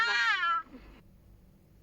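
A cat gives one clear, close meow with a rising-falling pitch at home, followed by quiet room tone.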